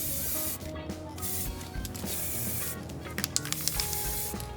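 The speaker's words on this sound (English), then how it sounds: "essentially you're just using a gradient of black, gray, and white, and spraying it at different angles" Aerosol spray primer hissing onto a miniature in black, gray and white coats from different angles, a steady close rush of spray with brief pauses and a few sharper bursts near the end.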